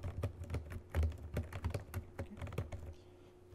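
Rapid, uneven clatter of typing on a computer keyboard, close and fairly quiet, with bursts of keystrokes that thin out toward the end; no speech.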